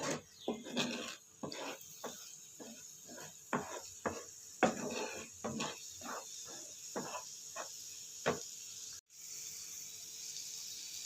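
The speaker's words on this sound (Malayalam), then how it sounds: "കൈവിടാതെ ഇളക്കണം, കരിഞ്ഞു പോകരുത്" Spices dry-roasting for a nathal (snail) masala blend are stirred in a pan, producing repeated irregular scraping and clinking strokes of a spoon against metal, close and moderately quiet, with a short pause near the end.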